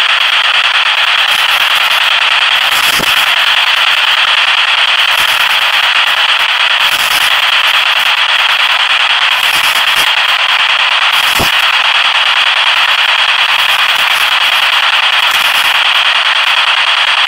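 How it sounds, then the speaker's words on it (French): Steady broadband radio static hisses loudly and continuously, a flat white-noise wash heard during a night investigation in a supposedly haunted forest, broken by a few faint clicks and crackles. "On n'entend que du bruit blanc."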